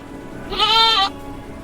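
A single goat at a livestock market gives one short, clear bleat over quiet background noise, close and fairly loud.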